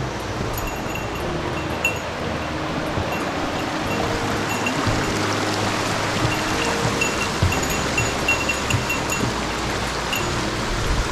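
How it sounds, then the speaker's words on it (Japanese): A rushing mountain stream on a hiking trail near Sugadaira ranch, steady broadband water noise throughout, close and fairly loud, with faint splashing and scuffing as hikers wade across a shallow spot. "川渡りですね"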